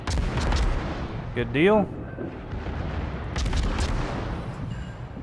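Benson destroyer guns in World of Warships fire in repeated booming salvos with a loud low rumble, while someone speaks over the gunfire.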